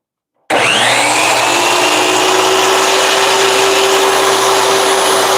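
A miter saw motor spins up sharply and holds a steady loud whine for two quick cuts on a DIY desk organizer build, the blade tone rising at start then running continuously without any talk.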